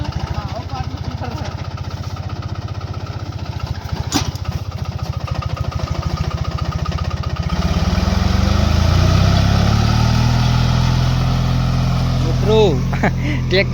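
A small four-wheel-drive mini tractor engine chugs steadily with rapid ticking, then settles into a louder, deeper running drone for the rest of the clip.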